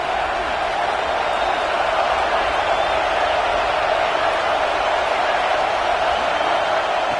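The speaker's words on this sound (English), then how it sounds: "this crowd is fired up. Listen to this noise here." Dense, steady roar of a fired-up football stadium crowd early in a game, a loud continuous wash of voices with no breaks, broad and enveloping like a full stand heard from within.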